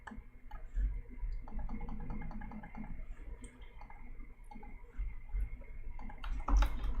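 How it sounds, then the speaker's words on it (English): Light, quick clicks of typing on a keyboard patter quietly and unevenly against a low background hum, with no one talking. "Let's just type this out."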